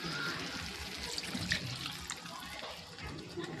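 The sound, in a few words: water being poured into pan with eggs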